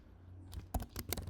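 Typing on a computer keyboard: a brief, quiet burst of several irregular keystroke clicks, close by and heard alone.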